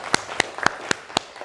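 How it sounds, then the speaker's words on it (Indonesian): Applause for classmates in a school classroom, heard as five sharp, evenly spaced claps over about a second and a half, fairly quiet and with no talking. "Tepuk tangan untuk teman-teman kalian."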